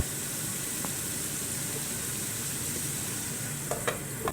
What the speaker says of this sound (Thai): เราก็จะผัดเห็ดให้สลดนะคะ แล้วก็ตามด้วยหอมหัวใหญ่ค่ะ ใส่หอมหัวใหญ่ลงไปเลย